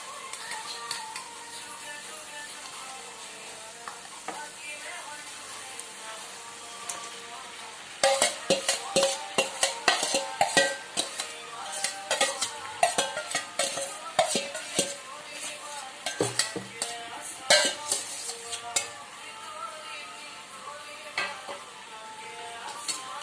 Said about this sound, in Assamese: এতিয়া মই ইয়াত মাংসখিনি দি দিম